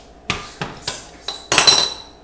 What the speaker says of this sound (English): you're just supposed to kind of whisk it in, I guess, so it's smooth